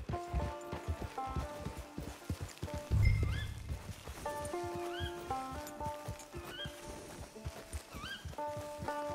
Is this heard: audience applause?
no